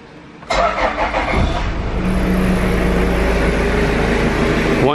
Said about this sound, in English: Start them up.